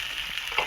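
Cabbage pieces hit hot oil in a pan with turmeric, giving a brief, steady sizzle with no talk.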